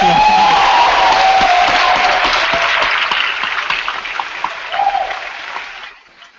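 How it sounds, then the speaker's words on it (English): A debating society audience at the Australs 2014 Open Grand Final applauds the event's sponsors. Loud, dense clapping fills the first half, then thins and fades away, with a brief swell of crowd noise before it ends. "I think that's a round of applause."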